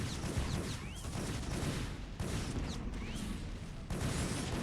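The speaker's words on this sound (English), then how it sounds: "So going to cannon down at these missile turrets, which is hilarious." Dense game battle sounds from StarCraft: Brood War as a photon cannon fires on Terran missile turrets, a continuous loud barrage of shots and blasts with laser-like zips, steady throughout with no talk.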